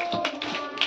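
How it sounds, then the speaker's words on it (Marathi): Brief round of hand clapping for a prize winner at a small group game, a few quick close claps with no talk. "कार्तिकसाठी टाळ्या."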